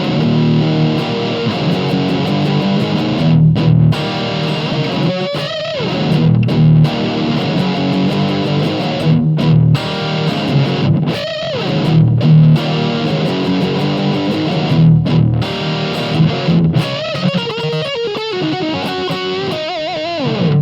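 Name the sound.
electric guitar through Blackstar Silverline amp, overdrive channel, room reverb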